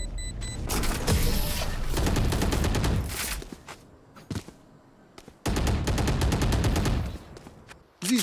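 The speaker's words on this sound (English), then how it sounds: "These guns we use are okay" Loud bursts of rapid gunfire from weapons in the tactical shooter video game Valorant, in two long sustained volleys separated by a quieter stretch with scattered single shots, ending with a short final burst.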